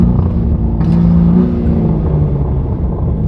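In sport mode, a BMW G80 M3 with an AWE Switchpath exhaust and catted downpipes holds a raised, steady engine note, droning and loud up close, with a brief rising whine as the revs build and settle.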